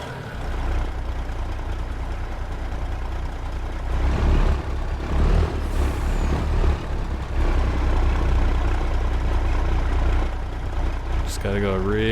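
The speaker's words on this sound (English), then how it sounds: "I'm gonna have to pull the Kenworth out from underneath it" A Kenworth truck's diesel engine idles with a steady low rumble running the whole time, joined by a few louder surges and hissing bursts near the end, with a muffled voice in the background.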